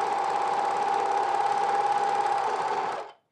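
A sewing machine hums steadily and close while finishing the inside edges of pocket lining flaps for jeans, then stops abruptly near the end, with no voices.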